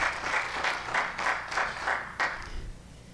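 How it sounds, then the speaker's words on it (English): Rhythmic group clapping at a Phi Theta Kappa regional convention gala, about seven distinct, evenly spaced loud claps in unison at a moderate tempo, then trailing off. "So a big round of applause for Jessie."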